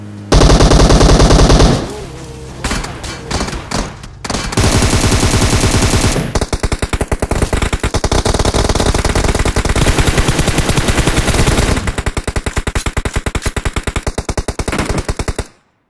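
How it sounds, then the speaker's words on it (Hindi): Rapid automatic gunfire in an online shooter video game, loud and dense, with sustained bursts of machine-gun fire and brief pauses between volleys. "यार मुझे ही फायर क्यों करते हैं समझ नहीं आती"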